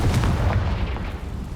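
A Confringo fire spell blasts in Hogwarts Legacy on PC, a loud, deep rumbling explosion with crackling bursts that rolls on and slowly fades across the short span, with no talk.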